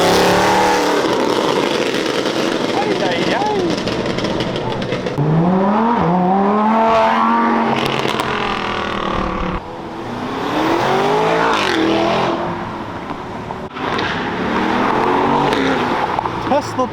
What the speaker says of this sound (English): the cars are starting to head out here